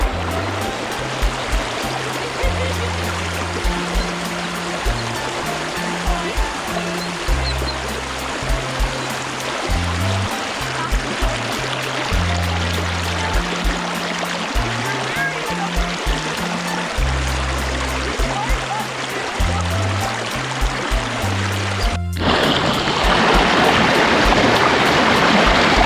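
Water from a waterfall on the Brandywine Falls loop in Ohio streams and splashes in a steady broadband rush, with a repeating low rumbling pattern beneath and a brief break before the flow grows louder.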